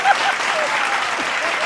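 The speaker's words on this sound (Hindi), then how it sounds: "ताली बजाओ" A live audience applauds steadily through the whole stretch at a Hindi political satire comedy show, a dense even wash of clapping with a brief voice at the very start.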